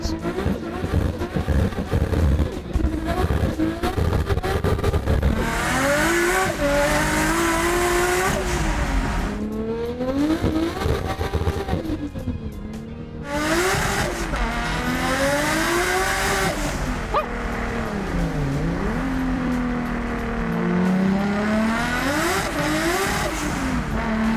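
A loud, aggressive tuned Nissan GT-R race engine making almost 700 horsepower revs hard again and again, pitch climbing and dropping in sharp sweeps, with crackling bursts between pulls and no talking.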